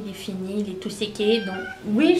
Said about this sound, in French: C'est mon chat. Il est là.